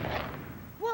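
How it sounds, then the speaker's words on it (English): A cartoon explosion effect from a Rocky and Bullwinkle Cartoon Network commercial: a short booming burst followed by a brief rising whistle-like tone, moderately loud and heard alone. "What was that? Must be fireworks for our big show."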